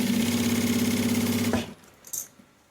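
A sewing machine runs steadily and loud up close, stitching the fabric of a waterproof roll-up toiletry pouch before stopping abruptly, leaving a few faint handling clicks.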